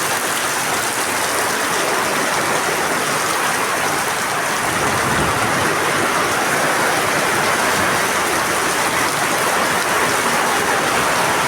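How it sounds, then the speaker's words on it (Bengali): Heavy rain pours down steadily, a dense, loud, continuous wash of drumming drops on surfaces with no let-up and no voices over it. "দেখেন বন্ধুরা, আমাদের এখানে কি পরিমাণ বৃষ্টি পড়তেছে"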